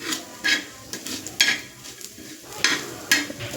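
Coriander seeds, cloves and cardamom dry-roast in a pan as a spoon stirs them, giving repeated scraping and rattling strokes over a faint sizzle, with no speech.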